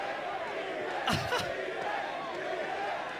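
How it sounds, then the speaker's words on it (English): At a League of Legends All Stars 2015 esports event, a large crowd roars behind a continuous murmur of chatter, with a brief louder surge of cheering lasting about half a second. "Froggen is pumping up the crowd."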